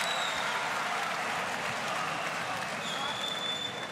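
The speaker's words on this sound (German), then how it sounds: "Das Publikum tobt und ist begeistert." A crowd roars and applauds continuously at a heavyweight boxing fight between Kubrat Pulev and Alexander Ustinov, a loud, dense wash of cheering with a commentator's voice talking over it.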